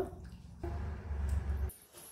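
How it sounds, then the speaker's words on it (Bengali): Raw mutton, 500 grams, being washed by hand in water, with soft close squishes, sloshing and drips at low volume and no talking. "তো এখানে 500 গ্রাম মাটন আছে, এটাকে আমি ভালো করে ধুয়ে নেব।"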